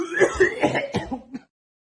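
A short burst of forced, throaty coughing and throat clearing, a few rough hacks close up, then silence.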